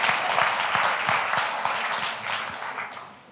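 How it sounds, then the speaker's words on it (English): An audience claps in a warm round of applause, many hands close and lively at first, then thinning and fading gradually over a few seconds. "Give them a big round of applause."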